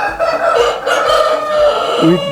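Rooster crowing inside an automated poultry house among hens, a drawn-out harmonic call running through the clip amid general flock clucking and house noise.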